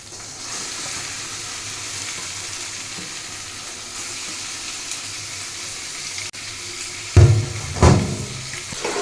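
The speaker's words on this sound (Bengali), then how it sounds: "চিকেনটা অ্যাড করেছি এবার এটাকে ভালো করে নাড়িয়ে নেব" Chicken pieces fry in hot oil with a steady, even sizzle, then a couple of louder scraping, clattering bursts from stirring near the end.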